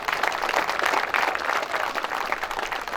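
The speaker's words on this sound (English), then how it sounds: "please hold your applause until the end" An audience at a high school stadium renovation groundbreaking ceremony claps steadily and fairly loudly throughout, with no talking over it.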